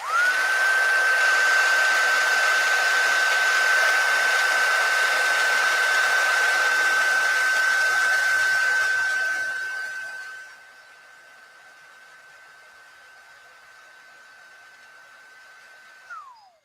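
A handheld heat tool blows a steady, loud whir while heat setting a craft project, then drops to a quieter hum near the ten-second mark before switching off with a short falling whine at the end.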